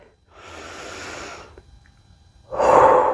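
During a standing strength and mobility exercise, a person breathes in a calm, controlled way. A long, soft breath is followed after a pause by a shorter, louder, closer exhale, with no talking.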